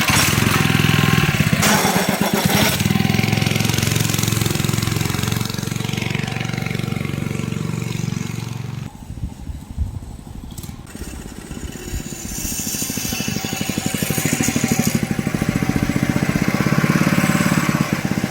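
A homemade 80cc Go Ped small engine runs loud and close, revving hard, dropping to a rough idle midway, then winding back up to a sustained buzzing roar.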